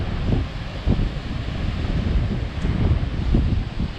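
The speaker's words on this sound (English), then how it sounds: "The waves are huge." Large ocean waves roll onto a beach near Frisco, North Carolina, a steady low rumble of surf with repeated swells, heavily buffeted by wind noise on the microphone.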